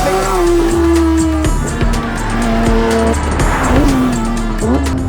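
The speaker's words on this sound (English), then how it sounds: "The sound of a naturally aspirated 4-liter engine." A loud, high-revving naturally aspirated 4-litre engine of a Porsche 911 GT3 wails close by in the Dubai desert, its pitch climbing and dropping through gear changes, with a hint of tyre squeal.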